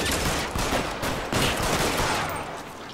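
Gunfire in L.A. Noire rattles out in several loud bursts of shots with short gaps between them, close and sharp, with no voices over it.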